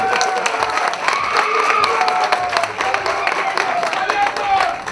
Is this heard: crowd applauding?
yes